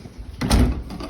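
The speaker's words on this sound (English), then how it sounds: "Gotta close the door, guys." A room door closes with a single muffled thud, close and fairly loud, while rain from a storm in Las Vegas hisses faintly in the background.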